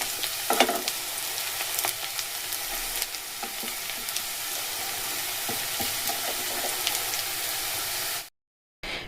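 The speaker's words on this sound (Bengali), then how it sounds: "পেঁয়াজগুলো খুব সুন্দর ভাজা হয়ে গেছে" Sliced onions sizzle and crackle steadily in hot oil in a pan as they fry to a crisp golden brown. The sound stays dense and continuous, is heard close up, and stops abruptly just before the end.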